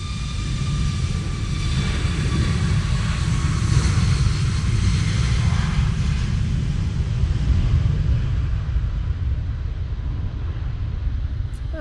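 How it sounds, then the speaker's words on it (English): A TUI Boeing 737 MAX 8 takes off from a wet, windy Manchester Airport runway, its jet roar building into a steady broadband rush with a faint whine, heard from a distance and alone. "TUI 737 MAX 8 now on the roll."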